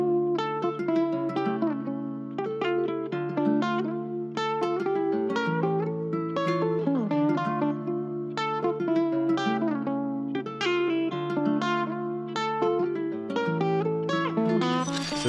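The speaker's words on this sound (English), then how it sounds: "I'm actually just going to use a guitar phrase." Spanish guitar phrase from Arcade, plucked nylon-string style notes and arpeggiated chords flowing in a steady, clear melodic line, moderately quiet and without any talking.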